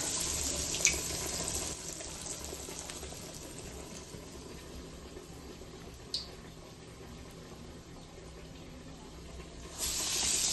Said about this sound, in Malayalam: അടുത്തത് നമ്മൾ കൈ നനച്ചു കൊടുക്കാം. കയ്യിൽ ജലാംശം ഉണ്ടാവണം.